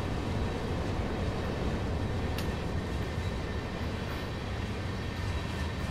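Intercity train IC 2039 on the Oldenburg to Bremen line in the game Train Sim World 4, heard as a steady, loud rumble of running gear and rail noise throughout, without any voices.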